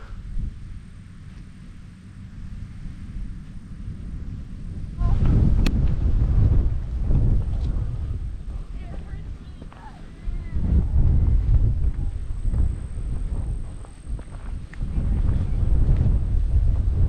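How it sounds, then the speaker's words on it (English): Strong gusting wind buffets the microphone atop Buck Hill, a short steep paved trail in the South Unit of Theodore Roosevelt National Park, North Dakota, roaring loud in surging bursts after a calmer opening, with a voice heard briefly. "This is some crazy wind up here on Buck Hill."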